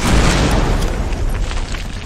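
A grenade explosion in a video game erupts as a loud, close boom at the start and rumbles on as a heavy low roar through the short stretch, with no talk.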